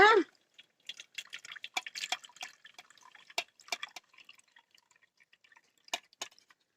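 Strained beetroot juice drips and patters irregularly into a container, a string of small splashes that slow and thin out, with a brief pouring sound at the start.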